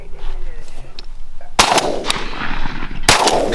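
Two loud shotgun blasts ring out while hunting mourning doves outdoors, each a sharp crack with a quick echoing tail, about one and a half seconds apart over wind and faint background noise.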